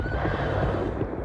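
Horses neigh and whinny loudly and close by, a continuous burst of excited calls with faint hoof clatter mixed in, as tethered horses are stolen from a village under attack.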